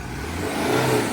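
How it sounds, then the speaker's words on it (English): A 1998 Toyota Hilux Surf intercooled turbo diesel engine revs briefly up close, a steady rumbling drone that swells slightly in pitch and loudness before holding. "Give me a couple revs."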